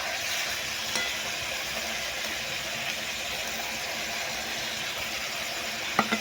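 Onions fry with spices in a pan, giving a steady, dense sizzle that stays even throughout, with a soft knock early on and a couple of sharp clacks near the end.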